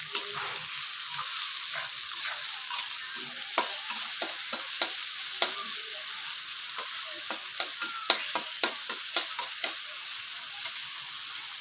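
Onions sizzle steadily in a pan with salt, for a Bengali tengra fish bhuna, while a spoon scrapes and taps against the pan in quick irregular clicks.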